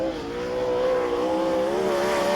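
A sprint car engine at Charlton Raceway during a 2005/06 World Series Sprintcars meeting screams in a sustained, high-pitched drone with a slight rising pitch toward the end, loud and close, with no voices.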